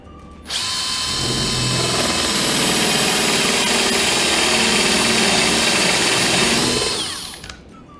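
A power drill bores a pocket hole into a wooden board, a steady loud whine starting abruptly and running continuously for about seven seconds before winding down, with no talking.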